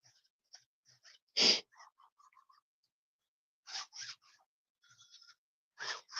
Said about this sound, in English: Sorry, you guys, I got to sneeze again.